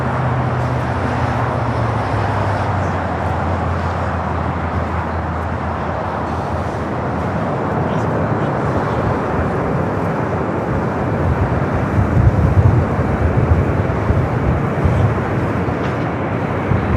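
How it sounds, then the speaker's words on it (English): A steady broad roar of an Atlas Air cargo jet arriving on runway 25 left at LAX, heard from a distance outdoors and swelling slightly toward the end. "It's our next arrival here on the south side at 25 left. This aircraft operated by Atlas Air."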